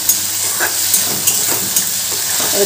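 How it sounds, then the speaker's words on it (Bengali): Tomato, ginger and green chili paste frying in a pan, a loud continuous sizzle broken by regular scraping strokes of a spatula every half second or so, close up with no talking. "এবার যে টমেটো, আদা, কাঁচা লঙ্কার পেস্ট বানিয়েছিলাম সেটা দিয়ে দিলাম। এবার ভালো করে কষিয়ে নিতে হবে"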